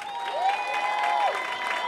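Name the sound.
audience applause for the Azores contestant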